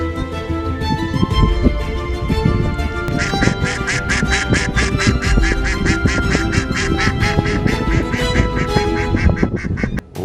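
Decoy and live ducks at a duck-hunting blind quack loudly and repeatedly, with a rapid run of rhythmic calls in the second half, several birds close by.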